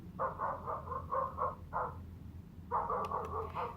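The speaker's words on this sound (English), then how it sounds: "Let's try the dog barking." Recorded dog barking played for a child's hearing demonstration: two bursts of quick, repeated barks, moderately faint, separated by a short pause.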